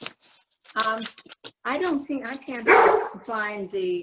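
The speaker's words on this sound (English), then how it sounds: "that's my dog" A dog barks several times nearby, loud, sharp and irregular, mixed in with a person talking.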